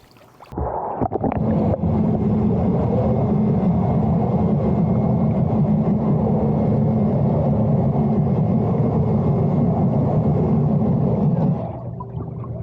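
A cordless robotic pool cleaner runs underwater, climbing a pool wall and scrubbing at the water line, giving a steady loud churning hum and low motor drone that holds evenly for about eleven seconds before easing off.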